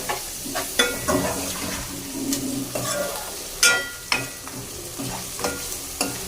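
Freshly ground ginger-garlic paste going into a hot pan for spicy chicken curry, sizzling loudly, with repeated scraping and stirring bursts spaced about every half second to second.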